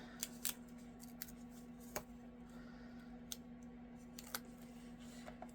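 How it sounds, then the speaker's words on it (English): Scissors fussy-cut paper for a Christmas mini pizza box craft, giving a few sparse, crisp snips and clicks at close range over a quiet room with a steady low hum. "this was one of those cut apart businesses again, and I just fussy cut it out."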